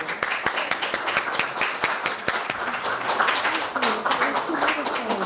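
An audience claps after a reading at an Arbor Day poetry contest held by a historical society: a dense, steady patter of many hands that lasts throughout, with voices mixed in.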